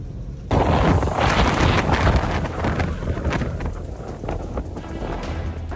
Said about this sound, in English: Gusts of wind at approximately 54 miles per hour in Motril, Spain, swept dust and sand across the beach in an instant